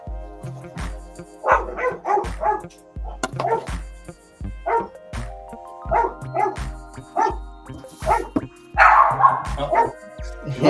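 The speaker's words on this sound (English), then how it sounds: "Now my dog's growling, you can hear that" A one-year-old Chihuahua makes repeated short barks and growling yips close by, in an uneven rhythm alongside a loud steady pulsing tone and some talking.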